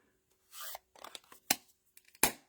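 A plastic stamp case closes with a sharp snap, preceded by soft rubbing and handling noises and followed by a second crisp click, all close up and quiet with no talking.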